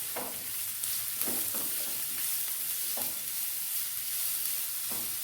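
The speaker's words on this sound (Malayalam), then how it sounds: "ഒരു മീഡിയം സൈസ് സവാള നമുക്ക് ഇട്ട് കൊടുക്കാം. ഒന്ന് വഴറ്റി കൊടുക്കാം." A medium onion sautés in hot coconut oil in a pan, a soft continuous sizzle broken every second or so by the scrape and knock of a stirring spoon; no one speaks.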